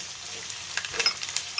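Green chillies and curry leaves for a Kerala-style rambutan pickle crackle and sizzle in hot oil in a brief burst of close frying, with sharp pops spread through it.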